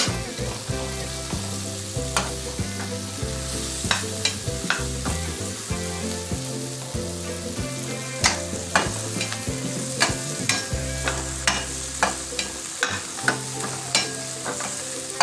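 Pork is stir-fried in a pan with string beans and etag, a salted cured pork, giving a continuous close sizzle with scraping stirs, and steady music plays underneath.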